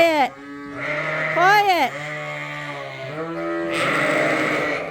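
Sheep bleating in a barn, several loud, wavering close-up bleats in quick succession, with a person briefly calling out over the animals.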